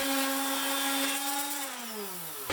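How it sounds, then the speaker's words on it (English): An orbital sander with 80 grit sandpaper runs on primed wood for a routed sign, a steady high motor whine with strong harmonics that drops in pitch as it slows near the end, close and alone. "Then I used 80 grit with the orbital sander"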